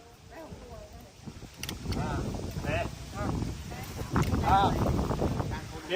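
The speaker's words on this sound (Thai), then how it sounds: "ลมแรงระวังหลุดเออลมแรงแรง" Strong wind gusts buffet the microphone at an outdoor kite-flying gathering, a steady rushing roar that swells louder toward the end, heard under people talking.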